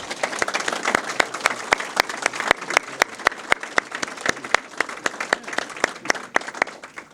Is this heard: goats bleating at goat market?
no